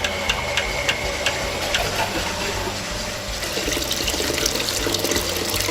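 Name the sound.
water rinsing through a Trittico Executive Evo machine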